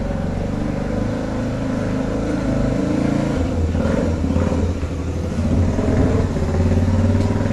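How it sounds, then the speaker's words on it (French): A neighbour's Harley motorcycle rumbles past outside near a barn under renovation, a deep engine drone that builds in loudness and grows toward the end. "Moto du voisin."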